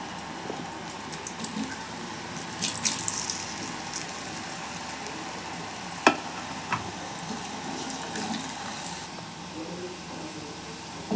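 Small moong dal jamun balls fry in hot ghee over low heat, giving a steady bubbling sizzle with a few sharp clicks and taps of a utensil, close and moderately loud throughout.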